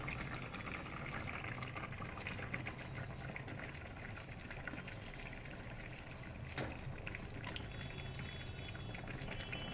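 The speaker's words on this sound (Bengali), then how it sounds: "দেখুন 5 মিনিট এটা ফুটে গেছে" Eggplant and potato curry with fried parshe fish bubbling steadily in a pot, a continuous close, moderately loud boil with faint clinks and no talking.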